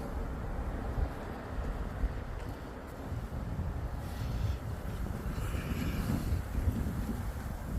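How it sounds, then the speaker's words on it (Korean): Strong wind buffets the microphone at a seaside lookout over a beach in Busan, a steady loud rumbling roar with gusts rising and falling throughout. "오늘은 바람이 좀 심하게 붑니다."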